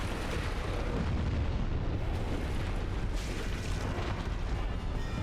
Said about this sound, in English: It always bothered me how his explosion seems to hit you even when you're not in it.